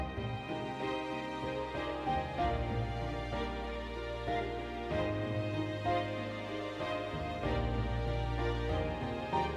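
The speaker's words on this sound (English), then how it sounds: "I added in this flute counter melody, and also on the strings, and that sounds like this" A flute carries a counter melody, doubled by strings, over a full orchestral arrangement of a JRPG main theme, with sustained chords and a steady low bass; dense and continuous at moderate loudness, with no voices.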